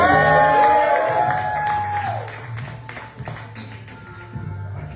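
An audience at a Busboys and Poets spoken-word event cheers and claps for performer Poetic Soul, with whoops and a melodic tone fading over the first two seconds, then scattered claps and crowd noise continuing at moderate distance.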